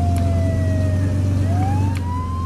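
A wailing emergency vehicle siren from the Flashing Lights video game sweeps down and back up in pitch over a loud, steady engine drone, close and continuous.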